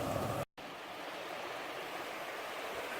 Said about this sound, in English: Love these little mountain streams.